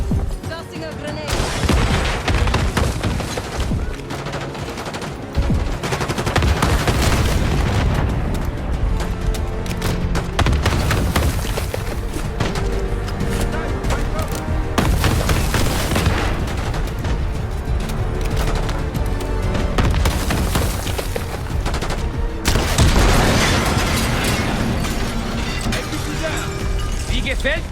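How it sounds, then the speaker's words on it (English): Intense Call of Duty: Black Ops battle: a grenade blast and continuous rattling gunfire with booms and crashes, loud throughout, with voices talking over the combat. "Tossing a grenade."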